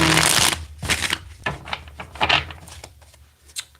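A deck of cards is shuffled several times in quick riffling bursts, loud and close, with brief pauses between.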